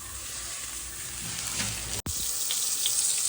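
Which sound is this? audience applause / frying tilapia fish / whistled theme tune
frying tilapia fish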